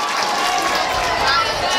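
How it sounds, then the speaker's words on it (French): Audience applause at a school singing audition, steady clapping and crowd noise filling the short moment at even loudness with a voice over it. "On applaudit s'il vous plaît."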